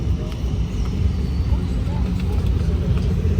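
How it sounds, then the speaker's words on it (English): A Pagani Huayra BC hypercar pulls away from a hypercar show, a fairly quiet low engine rumble rolling along steadily at moderate distance, with faint crowd noise around it. "Then this Huayras BC is leaving as well."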